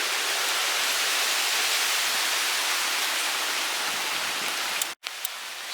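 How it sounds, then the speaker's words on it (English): Rain and wind at night during Hurricane Nicholas in Houston: steady broadband hiss of rainfall and gusting air, moderately loud and unbroken, with a brief cut near the end. "It's pretty windy, raining a little bit."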